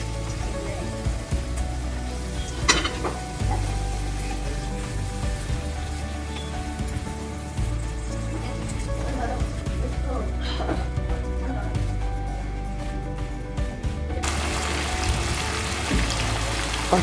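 Water poured into a sizzling pan of dhaba-style egg masala curry, a steady hiss and splash running throughout, with a louder burst of sizzle near the end while a voice talks over it.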